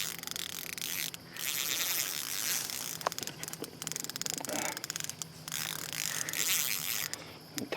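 A spinning reel's drag clicks in a rapid, buzzing ratchet as a bass pulls line at a farm pond, a near, continuous chatter that speeds and slows over several seconds.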